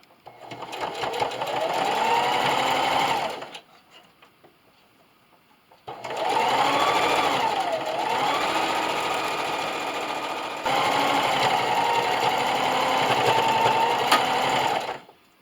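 A sewing machine running a straight stitch around a fleece hat: two long steady whirring runs with a brief quiet pause between them, loud and close, with no talking.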